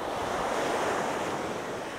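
Ocean waves washing onto a sandy beach on a clear day, a steady broad roar of surf with wind buffeting the microphone, continuous and fairly loud with no voices.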